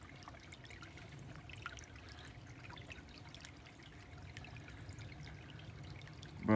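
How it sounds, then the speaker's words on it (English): Outdoor water flowing without pause in a fall nature setting, a soft continuous trickling and pouring wash, faint and steady with no voices, ending in a brief louder burst. "And the water keep flowing"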